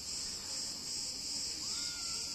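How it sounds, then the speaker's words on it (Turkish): Crickets chirping at Gültan beach near Milas, a steady high-pitched continuous trill filling the background at moderate volume, with a faint low ambient rumble beneath and no talking. "Bayağı bir cırcır böceği var. Seslerinden de duyuyorsunuzdur zaten."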